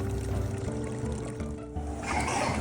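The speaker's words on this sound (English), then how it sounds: "Here we're just demonstrating cleaning out and running additional water through." Clean water runs through a Vevor ice cream machine being flushed out during cleaning, a steady pouring trickle over a low machine hum, loudening toward the end.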